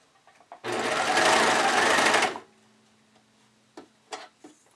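Sewing machine stitching a lining and exterior layer together in one loud, steady run of about two seconds, followed by faint clicks and quiet handling.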